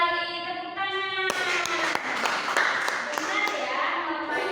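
A school class claps hands after a student answers, a burst of loud sharp claps starting after a short spoken phrase and continuing briskly while voices carry on.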